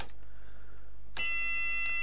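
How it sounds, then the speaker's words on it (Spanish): A cab alarm in a Class 57 locomotive in Train Simulator 2014 starts abruptly after a quiet hum, a steady high electronic tone that sounds on continuously and clearly. "nos va a sonar la alarma"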